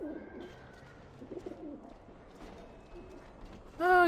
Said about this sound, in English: A coop is really just a cage, but the birds don't seem to mind.